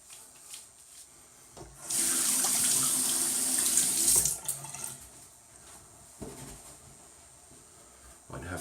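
Water runs steadily from a bathroom faucet into a sink during a wet shave, a loud continuous splashing rush for about two seconds, then softer trickles and faint handling sounds.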